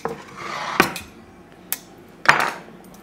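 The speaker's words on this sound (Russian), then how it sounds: "Нам нужна досочка." Several hard wooden knocks and clatters on a kitchen surface, a wooden cutting board set down with a few sharper clacks, then quiet.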